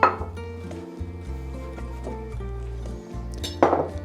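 A small saucepan clinks and knocks against a stovetop or utensils while butter and cream for mashed potatoes are prepared, with a louder metallic clatter near the end, close and clear over steady background music.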